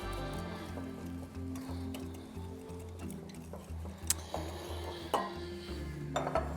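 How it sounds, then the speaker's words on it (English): Mashed avocado batter for waffles being stirred in a bowl, faint scraping and clicking taps of a utensil over a low background hum, with a few sharper knocks near the end. "we want to make sure we mix this up really well"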